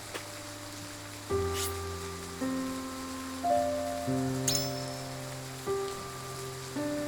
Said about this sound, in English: Night's falling and the rain is yet to let up.